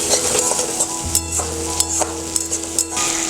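Tomatoes and shredded ginger frying in a pan, a loud continuous sizzle broken by scraping stirs and light clinks of a utensil against the pan.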